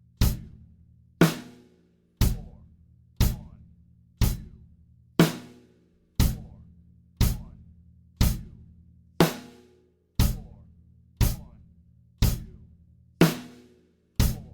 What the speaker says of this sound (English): Slowly, line 6 will sound like this.